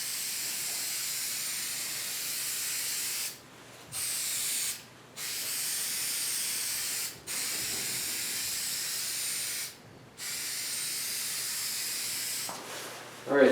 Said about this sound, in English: now I'm just going to spray the glue down on both the headliner and the board